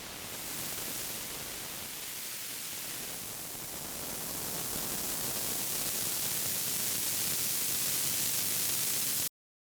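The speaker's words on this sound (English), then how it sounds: "the mixing board demonstrates some of its rhythmic potential, as well as the delicate, non-oscillating resonance that it is possible to achieve short of full" Resonance from a no-input mixing board held short of full feedback: a dense, steady hiss-like wash of noise that swells slightly and continues without a break, loud and alone until it cuts off abruptly.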